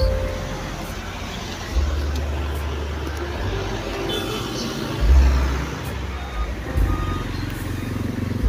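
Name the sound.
fast road traffic passing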